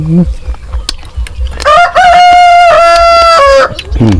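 A rooster crows loudly and close by in a rural village, one long drawn-out cock-a-doodle-doo with a rising start and a falling end. Scattered clucks and other faint farmyard noises come before and after it.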